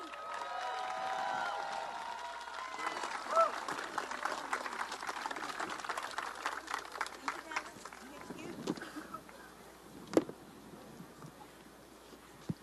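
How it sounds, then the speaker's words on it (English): A crowd at an outdoor climate march rally on Capitol Hill claps for a board member, loud at first and gradually thinning into scattered claps and a few cheers. "Let's give a warm round of applause for Sahar at this time"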